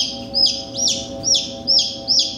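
Young spring chicks chirp in a rapid series of five shrill, high peeps, close and fairly loud over a steady low hum.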